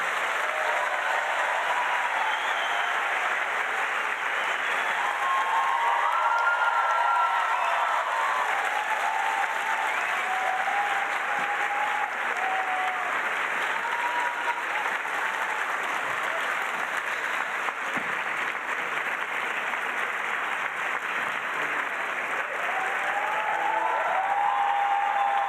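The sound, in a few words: audience applause for guests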